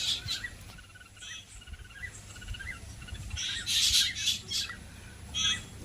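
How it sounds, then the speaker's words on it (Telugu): Rose-ringed parakeets chattering in short, shrill bursts of squawks and chirps, some near and some farther off, over a faint insect hum. "చక్కగా కూర్చొని కబుర్లు చెప్పుకుంటున్నాయి రామచిలకలు"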